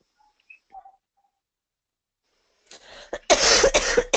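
After a few faint small noises and a pause, a person coughs several times in quick succession, close and fairly loud.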